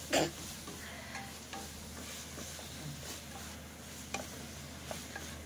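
Chicken pieces frying in a pan with onions, ginger and garlic, a soft low sizzle with occasional stirring scrapes and light clicks, fairly quiet throughout.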